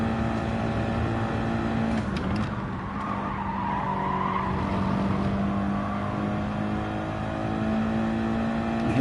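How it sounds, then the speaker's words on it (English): A Gran Turismo 7 race car engine revs hard and loud, holding a strained high drone with a brief dip and tire noise around a shift before climbing again. "let's rev the bollocks out of it now for a couple of laps"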